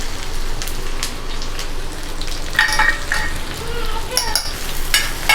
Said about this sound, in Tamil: இப்போ நம்ம கட் பண்ணி எடுத்து வச்சுருக்கிற ஆனியன் ஆட் பண்ணலாம்.